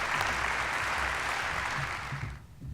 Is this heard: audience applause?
yes